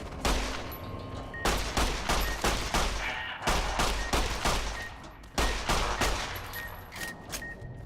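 Gunfire in the video game Fallout: New Vegas, Dead Money on Hardcore mode: a rapid run of close, sharp shots in several bursts with brief gaps between them.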